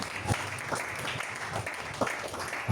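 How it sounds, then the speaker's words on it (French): A church congregation breaks into sustained applause, a dense, even clatter of many hands lasting the whole moment, with a few louder claps standing out near the start and end. "Acclamons la parole une fois."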